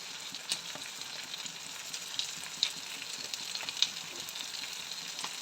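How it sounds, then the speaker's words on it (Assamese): Duck curry frying in a pan, a steady close sizzle with small irregular crackles and pops running throughout, no voices. "অকণমান ভাজিব লাগিব এতিয়া"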